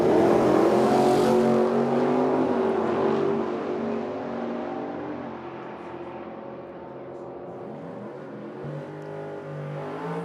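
Drag racing cars launch down the strip in a Ford versus Mopar pairing, loud roaring engines that fade steadily as they pull away, with a track announcer's voice over the top.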